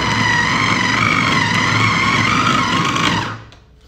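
Electric mixer kneading a soft saffron almond marzipan paste, a steady loud whirring motor hum held for about three seconds before cutting off abruptly.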